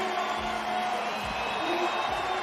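Crowd in Montpellier cheering for French BMX rider Anthony Jean-Jean at a freestyle park world cup, a steady roar of cheers and whoops under a commentator's voice.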